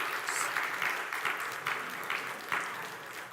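A church congregation at a Sunday service applauds, giving steady, moderately distant clapping from many hands that carries on without a break for the full stretch.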